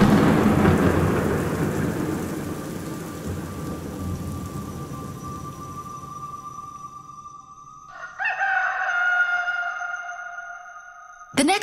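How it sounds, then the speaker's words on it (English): Heavy rain pours loudly at first and gradually thins, then a deep rumble of thunder rolls in near the end, with no voices. "it's raining heavily"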